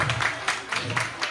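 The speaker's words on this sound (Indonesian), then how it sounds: "Tepuk tangan dong." Audience applause at an Indonesian fight event, a short burst of scattered clapping with a few distinct claps standing out, fairly close and moderately loud.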